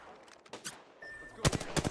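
Automatic weapon fire in Apex Legends, a fast burst of sharp gunshots near the end, preceded by quieter scattered shots and a brief tone.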